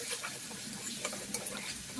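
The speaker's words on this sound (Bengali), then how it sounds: "গ্রেট করা রসুন ছিল, সেটাকে আমি দিয়ে দিলাম। ওটা একটু ভালো করে ভাজা হয়ে যাক" Grated garlic fries in a pan with a soft, continuous sizzle, broken by a few faint stirring scrapes and one small click.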